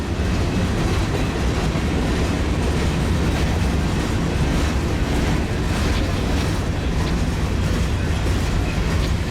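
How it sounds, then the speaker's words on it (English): A loud, unbroken rushing roar of a long westbound freight train of steel CNW coal hopper cars rolling past close by, steady and dense with rattling noise and no pauses. "Westbound train, I just guess it's heading back out for more"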